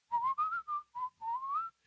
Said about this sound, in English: And so I whistled it so he would know what the note was